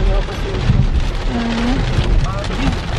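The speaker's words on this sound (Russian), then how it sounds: "Ну, в такой дождь первый раз вожу." Heavy rain pours steadily on a car during a drive, with a dense wash of drumming drops inside the cabin and voices talking over it now and then.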